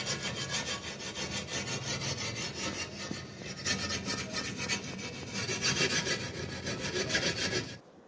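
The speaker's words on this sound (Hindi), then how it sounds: "ये इसको भी रेगमाल से साफ़ कर दिया नीचे से भी" Steady, close rasping of sandpaper rubbed back and forth over a wooden piece during a home repair, continuous and fairly loud with no speech, stopping abruptly at the end.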